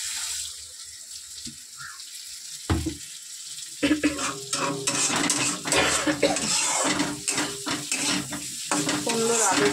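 Dishes and pots clatter and scrape as a pile is handled in a home kitchen, with irregular clinks and knocks coming close together after a quieter start, under a steady background hiss.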